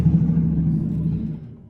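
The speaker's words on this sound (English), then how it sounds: "Sorry guys, loud truck." A loud truck passes close by as a low, steady rumble that slowly fades over a couple of seconds, with no talking.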